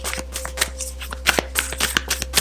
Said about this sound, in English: Sometimes I'm shuffling for a while.